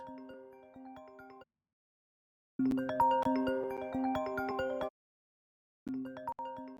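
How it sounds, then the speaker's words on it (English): A bright, melodic iPhone ringtone plays in three separate bursts with silent gaps between them, the tinkling notes clear and close. "As I move the slider, my ringtone plays at that volume"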